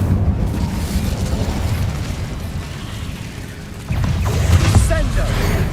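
An Incendio fire spell is cast in Hogwarts Legacy, a rumbling fiery burst with a stronger surge partway through, loud and dense, with a voice mixed underneath.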